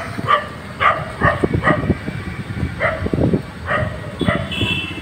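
Several dogs bark and yip along a street, sharp repeated calls at varying distances scattered throughout, with a busy rumbling background and occasional faint whimpers.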